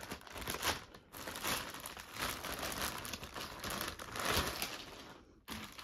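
A plastic package sealed with tape being opened by hand, with crinkling and rustling plus sharp tearing of tape in close, uneven bursts, and brief pauses between them.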